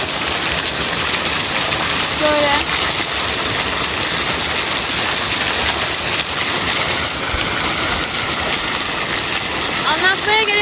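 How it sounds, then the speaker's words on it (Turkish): Waterfall at Kazıköy village near Kiğı, Bingöl, pouring as a steady broadband rush throughout, loud and continuous, with someone speaking briefly over it. "Burası da Kazıköy'deki şelalemiz arkadaşlar."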